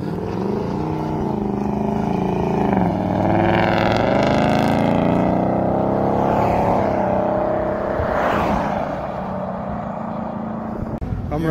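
Muscle cars such as Mustangs, Camaros and Corvettes racing in Mexico, with a loud engine roar that climbs and shifts pitch through revving gears as the cars pass close by.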